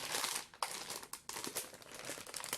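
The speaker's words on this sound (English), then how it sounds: "So we're gonna open up the package." Crisp plastic crinkling and rustling close by, with sharp crackles as a package is handled and pulled open, no voices.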